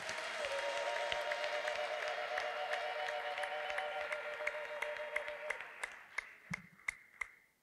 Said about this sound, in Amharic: እስቲ ለጌታ አጨብጭቡ።